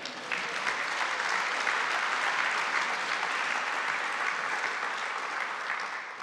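Sustained applause from a large audience at a political party conference fills the hall, steady and dense clapping throughout with no speech over it.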